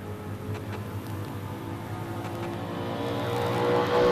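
A Dodge Charger drag car from Bakersfield, running a basic 52 package in ANRA season finals eliminations, roars down the strip. The engine note is steady, then swells louder toward the end, with no talking.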